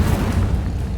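The Incendio fire spell cast in the video game Hogwarts Legacy: a loud, deep, whooshing burst of flame that roars steadily for about a second.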